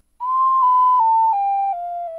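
A wind instrument plays a smooth legato run of descending notes with no tongued attacks, each pitch sliding cleanly into the next in one sustained, clear line.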